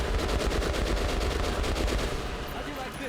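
Rapid automatic gunfire from Metro Last Light, a dense continuous burst of repeated shots that holds loud for about two seconds before easing slightly toward the end.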